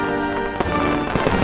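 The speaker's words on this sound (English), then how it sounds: "Nice fireworks going." Cartoon fireworks effect for a patriotic flip book animation: a steady crackling hiss with two sharp bursts popping out near the end, fairly loud and without speech.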